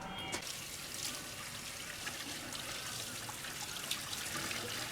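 Edamame soybeans washed under running water in a home kitchen, a steady trickling, splashing stream close by, continuous and moderately loud with no talk.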